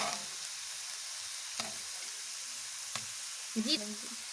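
Ginger-garlic paste fries quietly with onion paste and garam masala in a cauliflower and potato curry, a faint even sizzle marked by a few light taps and a short scrape near the end.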